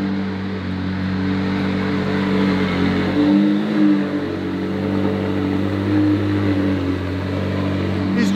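A McLaren Senna hypercar drives indoors through a house's living room, its engine a steady, loud, low droning hum with a mild swell partway through, with no voices.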